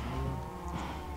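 Minecraft cows mooing in a single sustained, droning low call, close and continuous for its short length with no talking.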